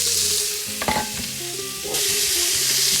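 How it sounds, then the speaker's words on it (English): Onions and red pepper sizzle in oil over medium heat while a spoon scrapes and stirs them through the pan, with a steady frying hiss that swells louder near the end; no one speaks. "we're gonna just stir those up and make sure they get coated in oil"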